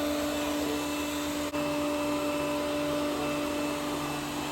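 An Ecovacs Deebot U2 robot vacuum runs nearby while vacuuming and mopping, giving a steady, loud motor hum and suction whir with one tiny dip.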